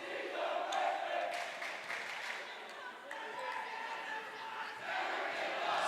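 Crowd noise at a high school volleyball regional final, Southeastern against Rushville-Industry in Augusta, a steady roar of cheering and shouting in a gym that swells at the start and again near the end.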